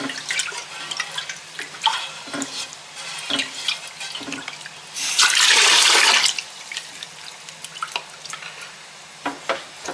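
Prawns are rinsed in water that splashes and trickles with small clinks and drips, then a tap gushes steadily for a couple of seconds before the rinsing sounds resume.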